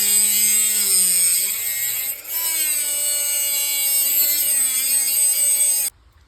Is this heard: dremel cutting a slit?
yes